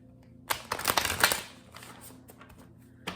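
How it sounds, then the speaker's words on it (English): A deck of tarot cards is shuffled by hand in a few quick riffling bursts, close and fairly quiet, with no talking. "I am shuffling this deck really well."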